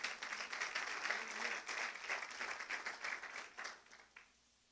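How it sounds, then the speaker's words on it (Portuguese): A church congregation applauds together, a dense burst of clapping that holds steady for several seconds, then thins and fades out toward the end. "dá um aplauso para Jesus."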